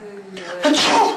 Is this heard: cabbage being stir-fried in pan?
no